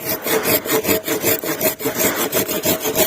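Hand saw cutting through a leftover stub on an old apple tree branch during pruning, a steady back-and-forth rasp of about a dozen close strokes, loud and alone.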